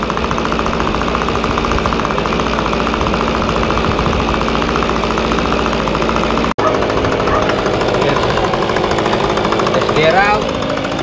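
A gas leaf blower running on TruFuel 50:1 premix warms up outdoors, its small two-stroke engine droning loud and steady at close range for the whole stretch, with a brief dropout midway and a slight rise in pitch near the end.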